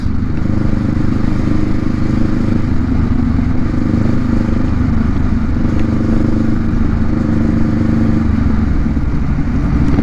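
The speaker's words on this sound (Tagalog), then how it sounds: "ang daming mga nakamotor sa likuran. Sabay-sabay." A group of Honda Rebel motorcycles riding together on a charity ride, their engines a loud, steady, continuous rumbling drone close by with no breaks.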